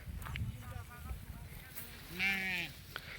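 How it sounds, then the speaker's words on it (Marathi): Sheep bleat several times, with one loud, drawn-out bleat near the end over a murmuring outdoor background while a flock grazes during the Balumama palkhi procession near Sangola. "त्या मेंढ्या चरायला लागले"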